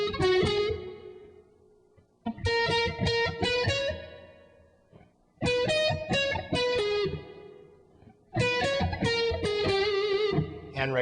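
A jazzy guitar riff with effects plays in four phrases of ringing picked notes, with brief gaps between them, loud and clear with no talking.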